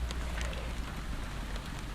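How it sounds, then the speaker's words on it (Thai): Rain falls outdoors in a steady, even patter on surfaces, a constant moderate hiss with scattered nearby drops and no voices. "ไปกับสายฝน ชุ่มฉ่ ำไปกับเม็ดฝน"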